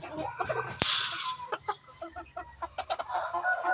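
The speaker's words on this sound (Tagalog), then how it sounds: "Ang ating mga panabong na manok." Fighting roosters cluck in square pens, giving short, close, choppy calls in quick succession, with one sharp bright burst near the start.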